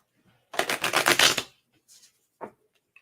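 Playing cards riffle-shuffled in one quick burst of about a second of dense fluttering clicks, followed by a couple of soft taps as the deck settles, close and otherwise quiet.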